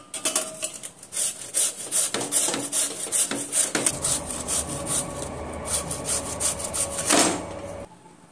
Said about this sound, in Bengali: গ্রেটার মেশিনটা দিয়ে আমি আলুটা গ্রেট করে নেব।